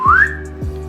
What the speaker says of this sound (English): I could do like the whistling now because I don't have the rubber bands in